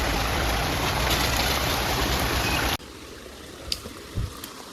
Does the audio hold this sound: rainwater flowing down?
yes